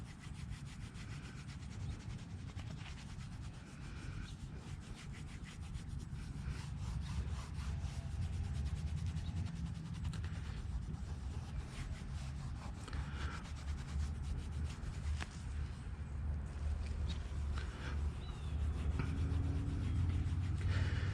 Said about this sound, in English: get some on your fiber like so, and then you just rub it in